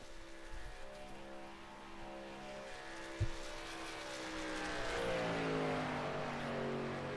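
A race car lapping Daytona during night qualifying, its engine a steady droning whine that rises and shifts in pitch as it passes, heard from trackside at moderate distance.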